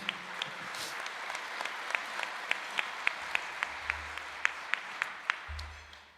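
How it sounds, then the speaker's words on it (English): A modest awards-ceremony audience claps steadily at a senior honors event, a scattered patter of hands with a few sharper individual claps standing out, moderately distant and fading toward the end. "Let's give them all a round of applause, please."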